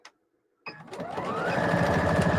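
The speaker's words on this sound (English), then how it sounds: "It's sewing a shirt together." A sewing machine stitching a shirt together starts up after a brief click and a short pause, then runs steadily and rapidly, fairly close, with no talking over it.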